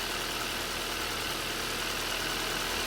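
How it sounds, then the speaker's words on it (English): A Hyundai/Kia 1.6L engine idles steadily just after installation, warming toward operating temperature; a constant, close mechanical drone with an even, unbroken hum and no voices. "Alright, it should be idling pretty smooth."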